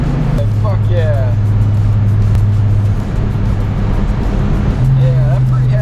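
A VR6 turbo engine in a Mk4 runs loud and steady at low revs. Its drone steps up and down in pitch, and short whistling chirps rise above it near the start and end.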